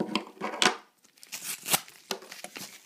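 A mail package being torn open by hand, with a few sharp rips and crinkling paper bursts in close, fairly quiet bursts separated by short pauses.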